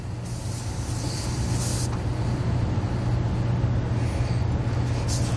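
Steady air hisses from an RV tire valve stem as a TPMS sensor is threaded on, a constant spraying rush under a low hum with a couple of brighter hissing swells.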